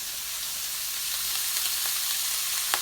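Ground chuck beef frying in a pan gives off a steady, close, crackling sizzle that swells slightly and pops sharply near the end, with no voices.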